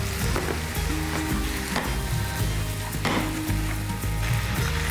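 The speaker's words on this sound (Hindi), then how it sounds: "So I'm going to add the sauteed vegetables into it." Sautéed vegetables sizzle loudly in a kadai with chicken, a dense continuous frying hiss with stirring scrapes and clinks over a low burner rumble, close and steady throughout.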